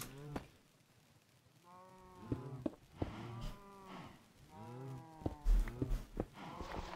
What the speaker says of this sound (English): Wow, we are getting close to the old cows there,